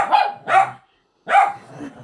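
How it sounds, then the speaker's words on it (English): Excited house dogs bark indoors in three quick, loud, close barks: two in rapid succession, then a short pause, then a third. "The dogs are freaking out. Dogs are having a crazy time."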